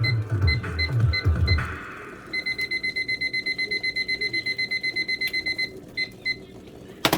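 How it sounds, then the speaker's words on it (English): A kitchen timer set for boiling instant ramen noodles beeps in a rapid, regular train of bright electronic pulses, preceded by a few clicks and handling noises up close, then ends with a couple of separate chirps. "so we'll set a timer"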